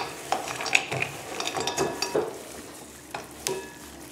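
Chocolate being stirred into cookie dough for Nutella cookies, a close series of soft scraping and clicking strokes of a spoon in a bowl with scattered sharper knocks, and no talk.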